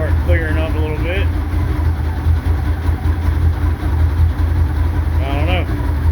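A 2013 Polaris RZR XP 900 with a shop-rebuilt engine that runs poorly idles with a steady, loud, low rumble throughout, and a voice speaks briefly near the start and again near the end.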